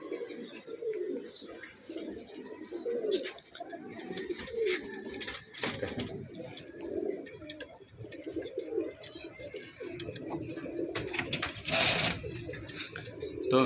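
Domestic pigeons cooing in a loft or coop, a steady low murmuring of overlapping coos throughout with occasional brief wing flutters and sharper noises, moderately close.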